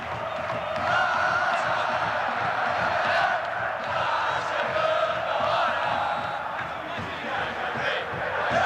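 Fluminense supporters in a stadium crowd at Barueri during the final minute of a 2010 match against Palmeiras, a steady dense roar of chanting and shouting that holds at an even level throughout.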